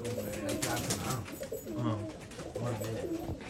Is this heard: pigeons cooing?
yes